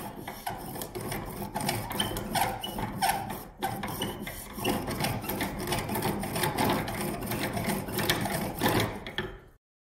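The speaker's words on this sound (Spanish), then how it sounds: "ese tapón de plástico lo va a taladrar cuando giremos" Continuous grinding and scraping of a hand-turned pillar drill boring into a plastic cap, with uneven rasping strokes nearby, briefly pausing before stopping abruptly.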